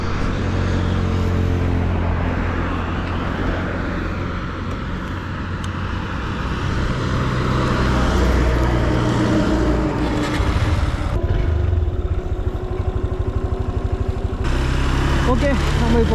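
A Honda Hornet motorcycle is ridden along the road toward Bandipur, its engine holding a steady, close drone mixed with wind rush, while a rider talks over it.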